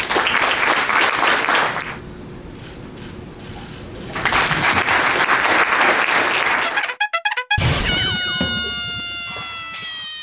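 Loud crowd applause at a civic honour ceremony for a Seabiscuit jockey in Edmonton, swelling in two long bursts with a brief lull between, then cut off and followed by a different, tonal cat-like sound.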